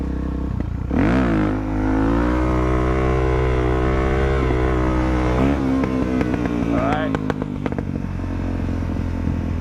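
A motorcycle engine revs and pulls up through the gears, shifting into second with a rising whine and a gear-change dip, loud and close, with a voice talking over part of it.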